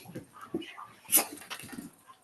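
Dogs playing indoors nearby, with soft whimpers, yips and panting in short uneven bursts.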